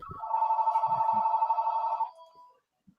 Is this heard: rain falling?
no